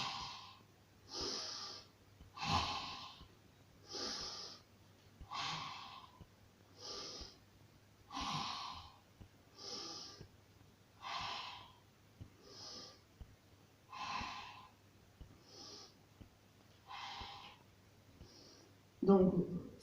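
Slow, deliberate breaths during a beginner-to-intermediate Pilates exercise, each long exhale and inhale audible and evenly spaced, close and steady for the whole stretch.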